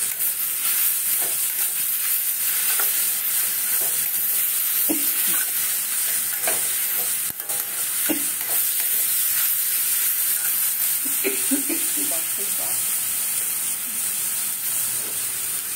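Coriander powder and mixed spices sizzling in a hot pan for a veg paneer roll filling, a steady close hiss of frying with occasional soft stirring scrapes, no voices.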